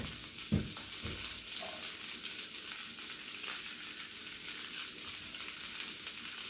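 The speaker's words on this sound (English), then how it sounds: "I made a lot of shredded cabbage here because it's going to cook down" Shredded cabbage cooks in a very hot cast iron pan with a continuous close sizzle and crackle, opening with a couple of stirring knocks, then settling into an even hiss without speech.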